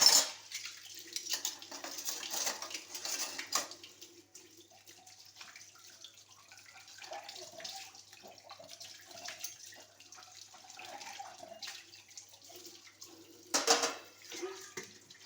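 Dishes are washed by hand at a stone sink: running water splashes in bursts, with occasional clinks and clatters of pots and utensils, fairly quiet overall.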